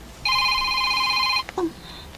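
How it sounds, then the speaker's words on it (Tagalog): A mobile phone rings in a home with a bright, steady electronic tone held for over a second, then stops, followed by a few brief clicks and faint shuffling nearby. "Rihanna, may nanawag."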